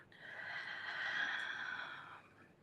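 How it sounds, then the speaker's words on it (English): A group breathes out together in slow unison during a guided breathing session at a spiritual gathering, one long, steady, breathy exhale that swells and then fades over a few seconds, with no talking. "and we exhale together"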